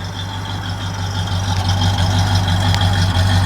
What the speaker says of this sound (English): Nice solid exhaust note, not too loud, nice and smooth.